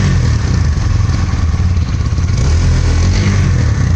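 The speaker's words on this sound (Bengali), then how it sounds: "তো এটাই হচ্ছে হিরো এক্সট্রিম বাইকের এক্সস্টের আওয়াজ।" Exhaust of a 2024 Hero Xtreme 160R motorcycle heard up close, a loud, throaty engine note holding steady with slight revving swells and mechanical clatter throughout.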